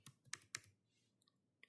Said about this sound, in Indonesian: Perintahnya tracer, kita ketik manual aja.